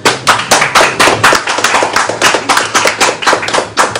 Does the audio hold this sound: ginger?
no